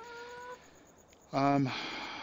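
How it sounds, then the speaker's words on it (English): Chickens in the farming video game Farming Simulator 17 give a brief burst of clucking, close and clear, after a faint tonal sound. "Hello, chickens. Good morning to you."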